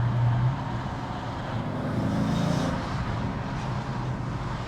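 A Dodge Challenger SRT8 with a 6.4 HEMI V8 rumbles steadily from inside the cabin, a deep continuous engine drone with a slight swell partway through.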